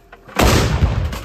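A single loud, deep blast from a 152mm Hyacinth-B cannon erupts suddenly and rumbles away, with a faint background before the shot.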